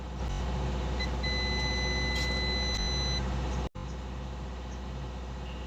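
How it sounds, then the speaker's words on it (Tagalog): A multimeter buzzer set to resistance beeps during a continuity test on a single-phase dual-capacitor motor, a steady high electronic tone held for about two seconds over a constant background hum. "Buzzer lang yung gagamitin natin. Maririnig naman ang tunog."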